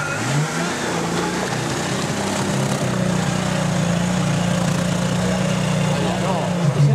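A Nissan Patrol with an L28 engine and mud in its exhaust runs steadily near a mud ramp, a loud, close, continuous rumbling drone with a low, even tone that holds throughout.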